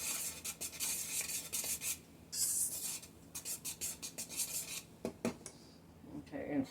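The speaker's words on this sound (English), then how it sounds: "And you're going to want to mix those very well." Banana bread ingredients with pecans are stirred in a bowl, making quiet, uneven scraping and rubbing strokes with a few light clinks of utensil against the dish.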